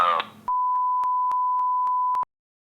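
A phone line emits a steady electronic tone after the phone lines went down during a power outage, a sustained beep lasting under two seconds and clearly louder at several regular points, heard alone after a brief burst of voice at the start.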